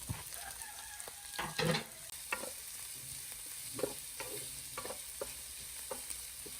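Ginger, garlic, onion and green chilies sautéing in hot oil with fennel seeds, a continuous sizzle broken by repeated scraping stirs of a spoon against the pan.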